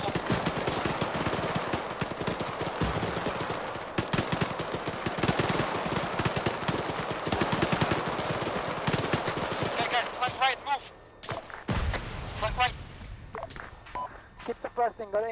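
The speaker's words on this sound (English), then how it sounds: "Roger, suppressing." Rapid suppressing machine-gun bursts in Arma 3, dense continuous automatic fire that thins into scattered shots and bursts, with radio voices talking over it.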